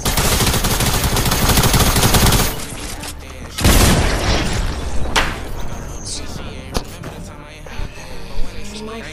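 Video game gunfire comes in loud bursts of rapid automatic shots and booming blasts, dense at first and then sparser single cracks, with a player's voice mixed in.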